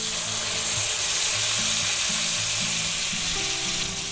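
Thick boneless pork chops frying in plenty of butter in a cast iron skillet, a close, steady, loud sizzle with faint clinks running throughout, no voices.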